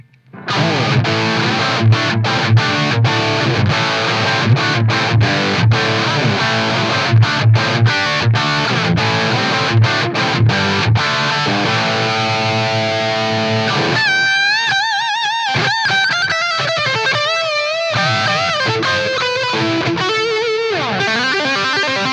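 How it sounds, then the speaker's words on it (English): Electric guitar played through a Marshall JCM-style distortion pedal, heavy and crunchy, chugging palm-muted chords that give way to sustained, singing lead notes, loud and without vocals. "Distortion pedals, like I say, add something to the sound. They add overdrive to the signal."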